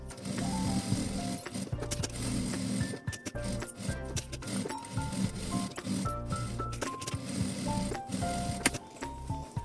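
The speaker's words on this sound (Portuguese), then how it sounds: "E passa uma costura de segurança em toda a volta." A sewing machine runs a safety seam around the edges of fabric for a toothbrush pouch. Close, clattering mechanical stitching comes in uneven bursts with clicks and brief pauses.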